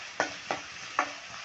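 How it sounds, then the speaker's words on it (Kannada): Onions fry in a pan under a steady hiss, with three distinct scraping stirs of the spatula spaced irregularly across the sizzle. "ಈಗ ಈರುಳ್ಳಿ ಫ್ರೈ ಆಗಿದೆ."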